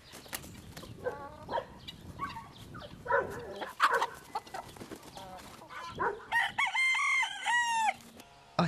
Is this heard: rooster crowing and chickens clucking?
yes